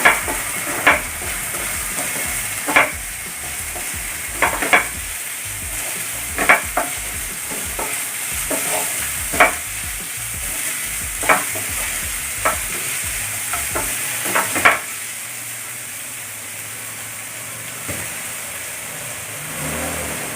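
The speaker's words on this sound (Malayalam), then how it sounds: "നമുക്ക് സബോള ഇടാം സബോള ഇട്ട് നന്നായി ഒന്ന് വാങ്ങണം" Onions sauté in a pan for chicken cutlets, giving a constant gentle sizzle with a spoon scraping the pan every second or two, close and clear, without talk.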